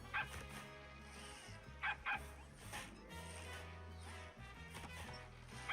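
A cartoonish dog in Evil Genius 2 barks and yips in short bursts over game music, a few quick woofs standing out near the start and middle.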